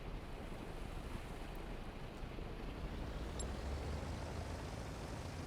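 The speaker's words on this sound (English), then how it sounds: "Engines on." Aircraft engines running in Stormworks, a broad, steady roaring rumble heavy in the low end that holds constant throughout, faint and with no voices over it.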